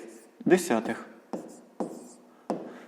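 A pen scratches numbers onto paper in short strokes, several distinct scribbles with pauses between them, close and fairly quiet.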